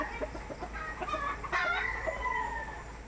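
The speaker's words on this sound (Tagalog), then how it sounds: "puting manok, puting manok." A white rooster crows loudly at close range on a rural farm, with some clucking before the long drawn-out call.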